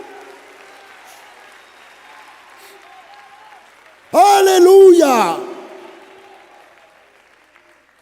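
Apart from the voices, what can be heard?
audience applauding in church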